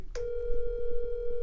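A telephone call tone plays as a single steady pitched beep that starts sharply and holds for over a second, close and clear, with faint background noise and no talking.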